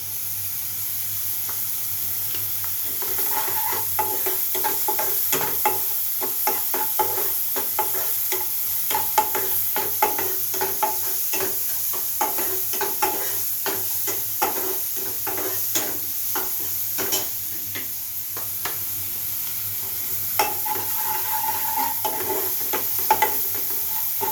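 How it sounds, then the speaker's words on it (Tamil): Onions sautéing with salt in a hot pan, a continuous sizzle overlaid with dense rhythmic scraping and clacking from a utensil stirring them, close and fairly loud for the whole stretch. "ஆனியனை நல்லா வதங்கிறதுக்கு இதில் வந்து நம்ம கொஞ்சம் நம்ம சால்ட் சேர்த்துக்கலாம் ஃப்ரெண்ட்ஸ்."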